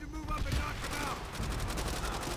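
Machine gun fire in Call of Duty: World at War during a Peleliu island battle: rapid, loud bursts of automatic shots over a dense wash of other gunfire.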